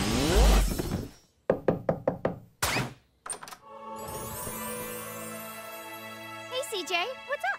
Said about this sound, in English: Even her knock sounds cool!